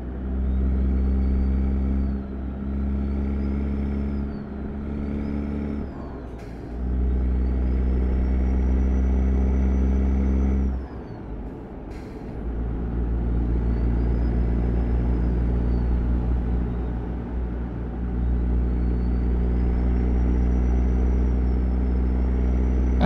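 A Mack Black Anthem truck cruises in American Truck Simulator, its engine a loud, steady low rumble that dips briefly a few times, maybe at gear shifts, with no voices.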